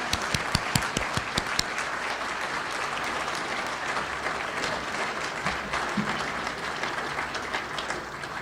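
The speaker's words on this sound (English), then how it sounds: "Let's give them a round of applause." Audience at a monthly meeting applauds newly introduced members, starting with a few distinct sharp claps before swelling into steady, sustained clapping across the room that holds at an even level to the end.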